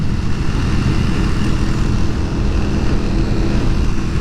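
A Harley-Davidson chopper motorcycle engine runs with a loud, steady, rumbling drone, heard up close and continuous throughout with no talking over it.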